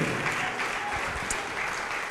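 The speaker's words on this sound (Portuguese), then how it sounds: "Vamos aplaudir mais ao nome de Jesus" A congregation at a televised evangelical gathering claps in a steady, continuous stream of applause that sounds full and close and stays even throughout.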